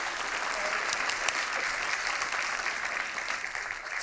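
An audience at the Big Book Award 2024 ceremony claps as author Piers Torday takes his seat, a steady even wash of applause from a full room that holds at one level throughout.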